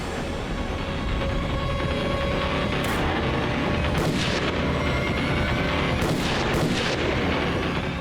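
Gunfire in a crime drama scene: several sharp shots crack at irregular intervals over a steady, dense background of noise and movement, moderately loud and without speech.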